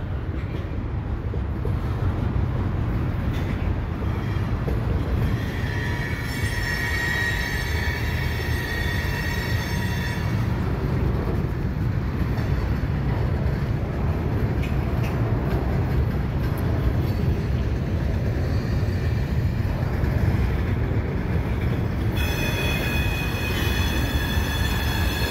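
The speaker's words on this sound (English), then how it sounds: "So this one is a westbound freight." A westbound CN freight train rolls past at close range, a continuous loud rumble of railcars with wheel squeal and high metallic screeching coming and going over the whole stretch.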